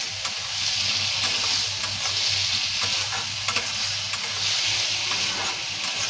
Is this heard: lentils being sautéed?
yes